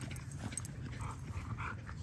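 Merle tri-colour bully and cane corso puppies whimpering and yipping, faint high cries over a steady low background rumble.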